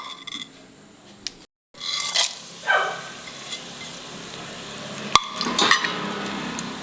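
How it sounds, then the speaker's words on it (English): Whole spices such as peppercorns, cloves and caraway seeds fry in hot ghee in a metal vessel, giving a hissing sizzle with scattered scrapes and clinks of a spoon. "the ghee is hot, the dry masala will fry"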